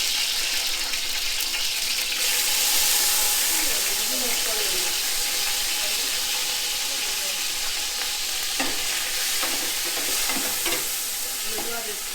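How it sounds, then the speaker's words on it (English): Marinated beef fries in oil in a hot pan for a beef stew, giving a loud, steady sizzle with stirring noises throughout and a brief voice in the background. "we've got a hot pan, we've thrown some oil in, and now we're going to drown the meat"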